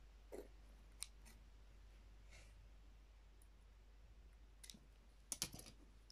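Scissors cut cord for bracelet making in a few quiet, sharp snips, one near the start and a quick double snip near the end, with soft handling noises between and no speech.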